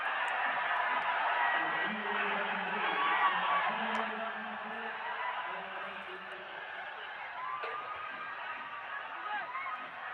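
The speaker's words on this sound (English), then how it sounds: "the crowd were loving every second of it" Crowd noise fills a cricket stadium during a Nepal Premier League match, a broad steady roar of cheering and babble that slowly eases, with a commentator talking over it.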